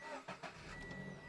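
A 2-liter car engine cranks with two quick bursts, then catches and settles into a steady idle, recorded close up from inside the car.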